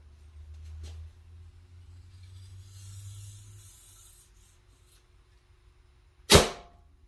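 Arrow released from a Prime Inline 3 compound bow at 30.5 inch draw, shot without a release loop: one sharp, loud crack near the end, preceded by low rumble and quiet handling noise.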